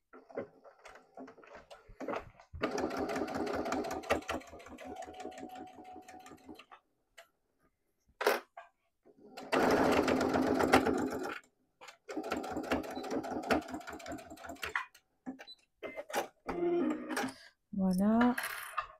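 Sewing machine running a short seam on a fabric wallet, in several bursts of rapid, close, loud mechanical stitching separated by pauses, with light handling clatter between runs and no talk over the motor.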